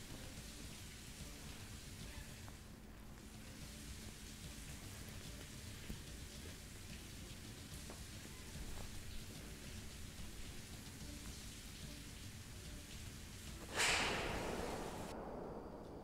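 Unseasonal rain in Panchmahal, Gujarat, hissing down steadily, with a low rumble of distant thunder and a louder burst near the end.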